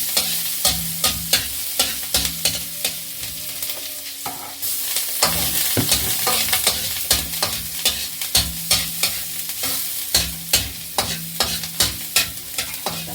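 Vegetables sautéed in a pan for a Filipino mixed-vegetable lunch, with a steady sizzle of frying under repeated close scrapes and knocks of a spatula stirring, in a regular rhythm throughout.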